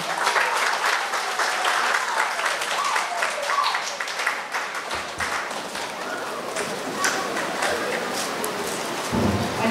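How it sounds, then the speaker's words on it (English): An audience at a school prize giving and craft display bursts into loud, continuous applause, a dense rain-like roar of clapping lasting nearly ten seconds with slight swells and dips. "your principal deserve a lusty round of applause right now"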